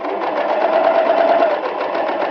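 A sewing machine runs fast through thick swimsuit fabric, a loud, close, continuous rapid whirring buzz of stitching that holds steady for a couple of seconds.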